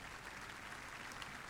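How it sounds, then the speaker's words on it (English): Snooker crowd at a Masters final applauding a shot, steady distant clapping from an arena audience, even and sustained without voices. "Crowd show their appreciation for the 2018 champion."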